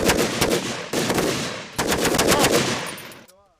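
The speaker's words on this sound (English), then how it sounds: "Some of the weapons they use, like this Maxim machine gun invented 140 years ago, are far less accurate than modern systems" A Maxim machine gun fires in three sustained rapid bursts of rattling shots, loud and close, separated by short breaks, with the final burst cutting off into a brief ringing silence.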